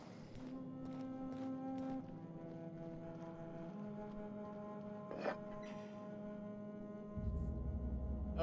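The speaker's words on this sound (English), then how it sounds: "it's the air horn again" An air horn in the video game The Outer Worlds sounds a long, steady, low droning blast with a foghorn-like tone, holding throughout and swelling louder near the end over faint game ambience.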